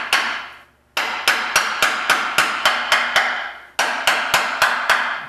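Sharp metallic hammer taps tap a part onto its pins on an N-14 engine during timing work, a single strike, then a steady run of about ten evenly spaced blows, a short pause, and another quick series, all close and loud.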